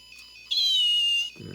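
An electronic cat meow from a servo-triggered cat pan tracking device, one clear synthetic mew lasting under a second, loud and close, with a soft rustle just after.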